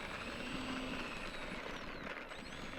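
An E-flite F-15 Eagle model jet with a 64mm electric ducted fan takes off from a rough field runway, giving a steady high-pitched whine that hangs over broad rushing noise.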